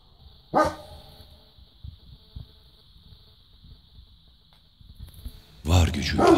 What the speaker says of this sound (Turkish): Var gücüyle havlamaya başlıyor.